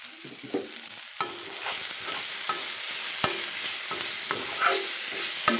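A spatula stirs an egg and soybean curry with coriander powder in a frying pan, producing a steady sizzle and irregular scraping strokes with occasional sharp knocks against the pan, close up and with no voices.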